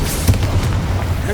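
Confringo spell explosions in the wizarding video game Hogwarts Legacy, a dense rumbling blast with a sharp burst near the start, loud and continuous under shouted game voices.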